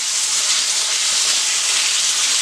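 Chicken pieces frying in a hot pan for Chinese chicken fried rice give off a loud, steady sizzle and hiss that runs unbroken throughout, close up with no talking.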